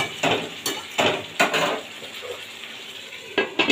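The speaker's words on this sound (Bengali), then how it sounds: "চিনিটা দিয়ে ভালোভাবে মিশিয়ে দেবেন" Spatula stirring and scraping sugar into spicy, dry-cooked chicken in a pan, a handful of distinct clinks and scrapes with a faint sizzle between them, close by and with no talking.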